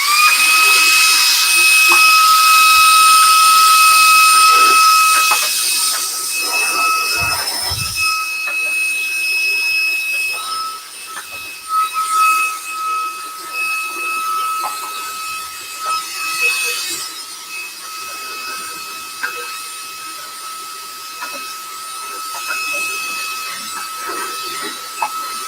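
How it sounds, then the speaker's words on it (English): A vacuum cleaner running loudly and steadily with a whining hum for several seconds, then cutting off, followed by quieter handling noises and clatter. "let me just run this vacuum real fast."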